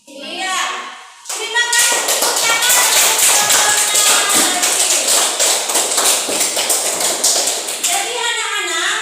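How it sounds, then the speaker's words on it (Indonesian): A classroom of students clapping for a student group, a loud, fast burst of applause lasting several seconds, with a voice heard briefly before it starts. "Terima kasih tepuk tangan untuk kelompoknya"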